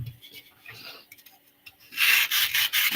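Floral foam or stem material is trimmed and shaved for a grave flower arrangement, starting with faint scrapes and then turning into loud, close rubbing strokes in a quick repeated rhythm, with no speech.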